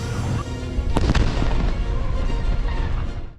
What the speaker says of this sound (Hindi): इस मिशन में यह यूनिट आयरन स्टिंग मोर्टार बम का इस्तेमाल कर रही है